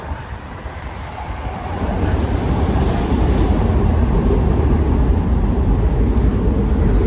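A train rumbles through Berks station in Philadelphia, a loud, close, continuous roar of wheels on rails that swells after the first two seconds and holds steady, with no talking.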